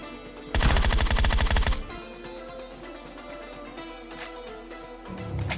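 One loud, fast automatic burst of gunfire in the mobile battle royale BGMI, roughly a second long, followed by quieter game ambience and a faint later shot.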